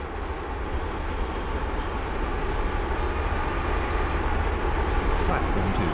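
A train in the Roblox game Stepford County Railway pulls into Leighton Stepford Road station. Its rumble rolls on as a loud, steady, continuous roar, and an onboard announcement voice speaks over it.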